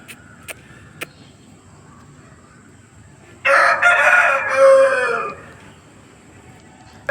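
At a poultry market, a rooster crows loudly once, close by, after a few sharp knocks in a quiet setting, then things settle back to faint background.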